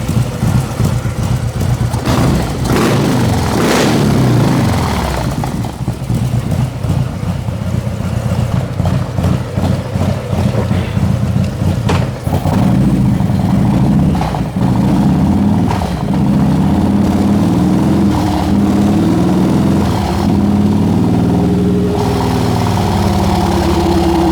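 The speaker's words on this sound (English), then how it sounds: "let's get it on the dyno here and run her up" Engine fitted with a 128 kit and CR483 cams running on a dyno: a loud, steady engine roar fills the whole stretch, with rising revs early on before settling into a strong, continuous drone.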